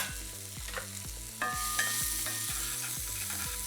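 Onion frying and slowly caramelizing in a pan for mushroom rice, a steady close sizzle with repeated low scraping strokes of stirring throughout, growing slightly louder partway through.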